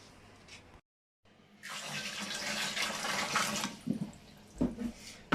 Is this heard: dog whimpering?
no